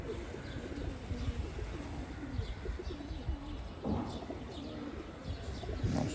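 Loft pigeons, Chila and Giribaz flying-line birds, coo in low, repeated rolling phrases that overlap one another, with a few higher chirps scattered through a steady murmur of nearby birds.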